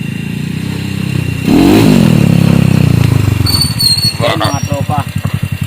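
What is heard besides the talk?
SRM 110 motorcycle engine, 56mm bore, worn cam ticking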